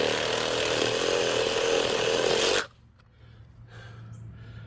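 Chainsaw cutting across the top of an old hardwood stump, a loud, steady high-revving buzz that stops abruptly partway through, leaving a quiet idle and faint background.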